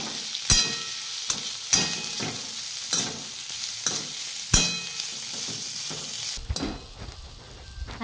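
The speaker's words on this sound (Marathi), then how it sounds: "आता हे छान कारला आपल्याला याच्यामध्ये छान परतून घ्यायचं आहे" Sliced bitter gourd fries in a pan with turmeric until crisp, a steady hiss of sizzling oil broken by repeated scraping stirs and clinks of a spoon against the pan.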